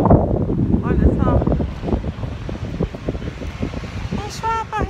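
Gusty wind blows in Paris near the Eiffel Tower in the evening, buffeting the microphone with low rumbling bursts while a person talks over it.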